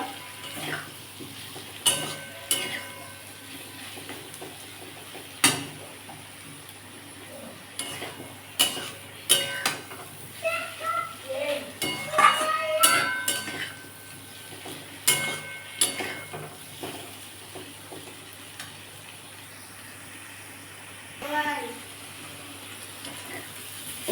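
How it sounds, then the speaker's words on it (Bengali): Ladies finger (okra) masala stir-fried in a pan with ginger, garlic and chilli powder: scattered spatula scrapes and sharp metallic clinks over a faint sizzle, spaced irregularly and fairly close. "ভাজনটা ভালো করে আমি কষে নেবো যাতে আদা রসুনের গন্ধটা না ছাড়ে"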